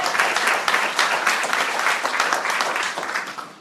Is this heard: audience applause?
yes